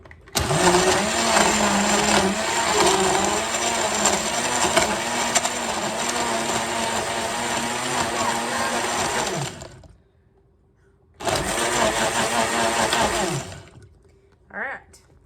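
A blender roars loudly at close range, crushing ice for a shake for about ten seconds, stops briefly, then whirs again for a second burst before cutting off.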